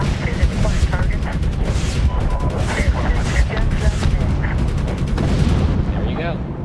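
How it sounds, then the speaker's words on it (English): In Medal of Honor: Gunfighters, a helicopter's chain gun rattles in dense, continuous bursts while Hydra rockets add heavy booms, all loud and close, with voices faintly mixed into the barrage. "The next targets, we'll just do a combination of chain gun and hydras"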